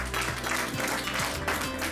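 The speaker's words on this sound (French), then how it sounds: "On peut encore applaudir bien fort tous nos participants," Audience applause for student competitors at an oyster-opening contest, a fairly quiet, even patter of clapping from a moderate crowd with no talk over it.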